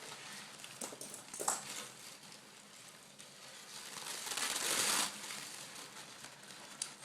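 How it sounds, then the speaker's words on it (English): Tissue paper crinkling and rustling close up in a quiet room, with short crackly bursts around the middle and a longer, louder crumpling stretch near the end. "I'm going to get out a piece of tissue paper."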